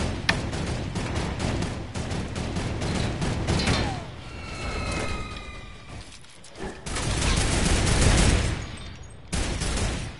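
Gunfire in a PS4 shooter game, with dense volleys of shots and mechanical clatter that continue almost throughout, briefly easing midway before another heavy burst, and no voices.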